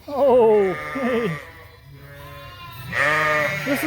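Sheep on a working farm, a ewe that lambed early, giving two loud, wavering bleats, one long and drawn out, the other shorter after a quiet pause, with faint background noise between.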